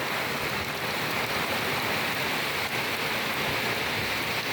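Rain drumming on a tin roof in a rural home during the monsoon, a steady broad hiss of falling water with no speech.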